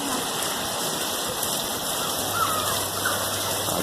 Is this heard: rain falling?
yes